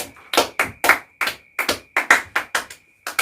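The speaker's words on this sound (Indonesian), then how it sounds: "Tepuk tangan untuk Dwi." Classroom applause from students: a run of about a dozen loud, separate claps in a fairly regular rhythm, close by and without voices.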